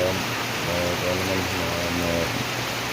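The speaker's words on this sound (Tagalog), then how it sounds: "Kaya mas mabuti na itong medyo umulan." Steady rain pours down around banana plants in hot weather, a dense unbroken wash of noise, while a voice speaks underneath.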